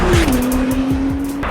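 A 2022 Acura NSX Type S hybrid supercar with a twin-turbocharged 3.5-liter V6 and three-motor system drives close by, a loud steady engine tone holding a single pitch over road noise.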